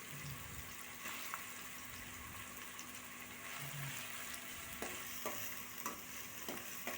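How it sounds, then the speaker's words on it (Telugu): Onions and green chillies frying in a pan for a coconut milk pulao chicken curry, with a steady soft sizzle and occasional stirring scrapes close by, no talk. "వేసుకొని ఒక రెండు మూడు నిమిషాలు ఫ్రై అవ్వనివ్వాలి"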